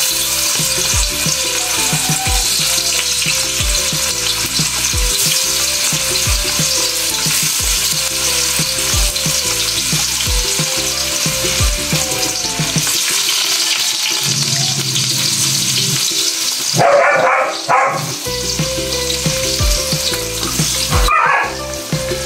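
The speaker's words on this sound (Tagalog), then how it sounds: "At syempre, prituin na rin natin ang ating tokwa guys." Pieces of tofu frying in a pan give a loud, steady sizzle with rhythmic clatter of stirring throughout, briefly dropping away before the crackling frying returns.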